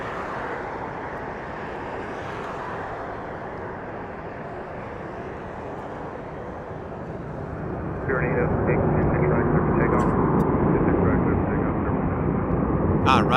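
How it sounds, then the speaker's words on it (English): A Spirit Airlines Airbus A320 touches down at Harry Reid International Airport in Las Vegas, with a steady broad jet roar that swells louder partway through as the aircraft rolls out on the runway. "Spirit is hitting the runway"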